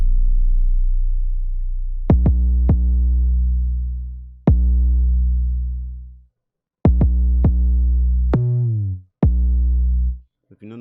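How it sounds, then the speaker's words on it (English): Deep 808 bass notes programmed in FL Studio, long booming tones that decay slowly, with several sharp punchy hits and one pitch-falling note, sounding loud and alone. "So the main 808s now this D8 will sound like this."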